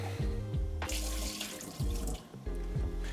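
Water runs from a kitchen tap while a roast dinner is cooked, a steady splashing rush into a pot or sink, close and loud, with low thuds and gurgles along the way.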